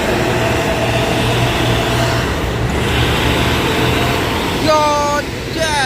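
A convoy of four Madinah trucks loaded with cooking oil rolls toward Dumai, a steady broad roar of heavy road traffic and engines, with a couple of short horn blasts near the end.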